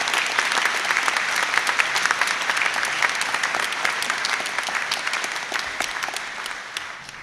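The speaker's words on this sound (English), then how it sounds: "an extra clap for our very first doctorate graduates" Graduation audience at an Atlantic Technological University conferring ceremony clapping for its first doctorate graduates, sustained dense applause from a large hall that holds steady for several seconds without speech.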